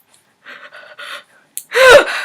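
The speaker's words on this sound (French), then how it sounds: "On dirait mon chien qui ronfle." A person snorts and gasps in a series of short nasal breaths, ending in a louder ragged inhale that resembles a dog snoring, close and alone.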